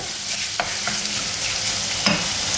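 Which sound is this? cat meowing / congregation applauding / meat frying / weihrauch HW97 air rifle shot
meat frying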